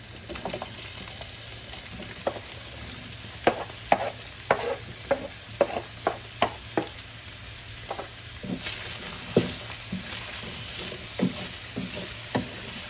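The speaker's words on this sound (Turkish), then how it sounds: "Yağımı da ekledim. Mantar ekleyelim." Mushrooms added to hot oil in a pan for a creamy chicken mushroom pasta, sizzling and frying steadily while a spoon stirs them with a run of close scraping knocks.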